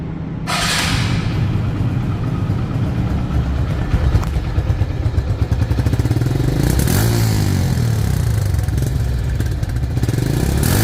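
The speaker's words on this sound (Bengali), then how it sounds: "এই বাইকটির সাউন্ড শুনবো সাউন্ড শুনলে আপনারা বুঝতে পারবেন এই গাড়িটির ইঞ্জিন কোয়ালিটি কেমন" A TVS Metro Plus motorcycle, a 2023 or 2024 model with about 2,900 km on it, idles close by with a steady low putter, then rises briefly in pitch partway through.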